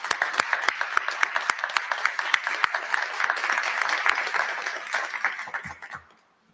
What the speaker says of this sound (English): Let's take a moment to recognize their dedication with a well-deserved round of applause.